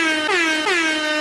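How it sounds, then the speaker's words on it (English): A foghorn sound effect played from a notepad, a loud, steady horn blast with two brief dips in pitch, heard alone for about a second. "little foghorn sound effect here"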